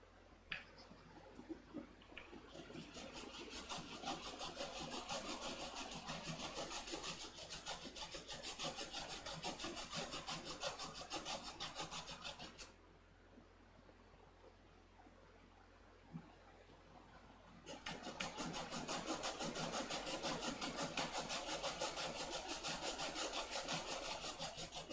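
Soft wooden spacers for a Lucaplane model aircraft sanded by hand, producing close, loud continuous rasping strokes in two long bursts separated by a quieter pause, with no talking.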